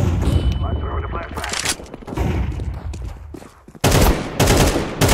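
Sniper rifle fire in a casual Counter-Strike 2 match, loud heavy shots and booming bursts packed amid busy game noise, with players talking over it throughout.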